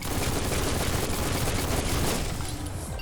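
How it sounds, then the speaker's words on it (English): Sustained automatic machine gun fire from the video game Biomutant, a dense, loud rapid burst rattling continuously for about three seconds and tailing off slightly at the end, with no talk. "Thankfully, I've got just the world's best machine gun"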